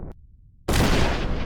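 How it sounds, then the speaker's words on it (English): A dynamite charge goes off in a sudden loud blast after a brief quiet moment, followed by a heavy rumbling roar of debris that carries on without fading. "Dynamite."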